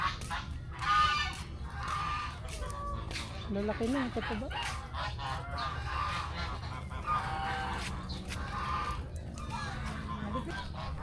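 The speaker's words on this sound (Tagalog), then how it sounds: "Mga gansa." Geese honk repeatedly at a farm mini zoo in Nueva Ecija, with loud, nasal calls in several bursts while people talk nearby.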